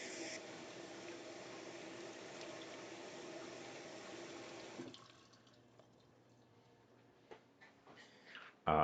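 Running tap water streams steadily while a tiny whisk is rinsed, a continuous hiss that cuts off abruptly, leaving quiet room tone with a few small clinks and knocks near the end.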